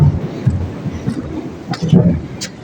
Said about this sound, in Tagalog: May kumukulog.